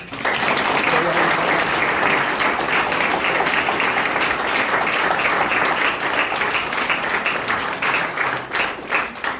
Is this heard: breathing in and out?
no